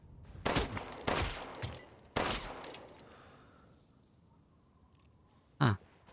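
Gunshots in Resident Evil Village VR, three loud close shots in quick succession, then a lull of faint ambience and one more short sharp report near the end.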